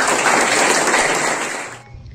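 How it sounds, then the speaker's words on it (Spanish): Dense applause from a crowd at a municipal council swearing-in in Bolívar, Táchira, steady and loud, tapering off toward the end. "Un aplauso para ellos."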